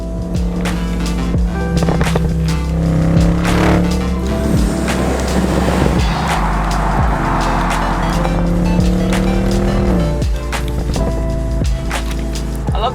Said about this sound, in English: I love the V8 rumble that you get from this car.